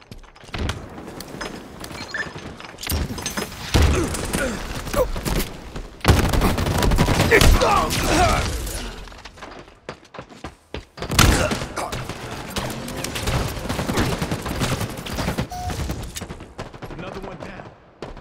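Sustained bursts of automatic gunfire and thuds in Halo Infinite multiplayer, loud and dense with brief lulls, mixed with game voice callouts.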